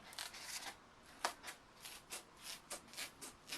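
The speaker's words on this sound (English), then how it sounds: "I take my scissors and I do a rough cut with the scissors before I'm going to grind" Repeated snipping of scissors through thermoformed plastic of an orthotic device, about a dozen crisp cuts in a steady rhythm, close and fairly quiet.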